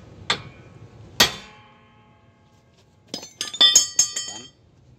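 A hammer strikes the tie rod of a car's steering linkage in a workshop: two sharp metallic clanks, then a quick cluster of ringing hits, close and loud with no talking.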